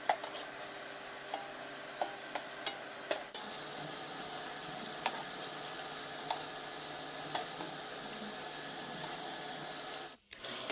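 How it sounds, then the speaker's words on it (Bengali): Hinche greens pakoras deep-frying in hot white oil in a wok, a steady close sizzle with occasional faint clinks and pops, no talking. "এবার যতটা ধরবে ততটাই আমি দিয়ে দিচ্ছি কড়ার মধ্যে, দিয়ে ভালোভাবে নাড়াচাড়া করে লাল লাল করে ভেজে নেব।"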